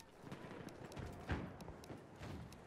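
Footsteps and scuffling in an Incursions match, an uneven run of soft low thuds under dense battle noise with one sharper impact near the middle, fairly quiet overall.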